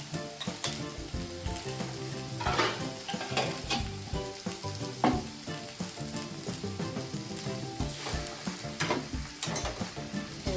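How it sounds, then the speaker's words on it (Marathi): Onion-garlic masala and chili powder sautéing in a pan for a Marathi Bhogichi bhaji, with a steady close sizzle and repeated stirring scrapes throughout. "परतून घ्यायचं आपण"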